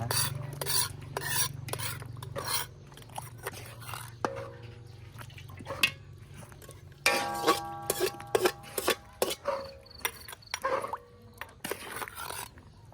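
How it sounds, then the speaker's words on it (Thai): Coconut milk being stir-fried in a pan, with quiet scraping and stirring strokes in irregular bursts and a few clinks of utensil against the pan, fairly faint and close. "เราคั่วกะทินะคะ"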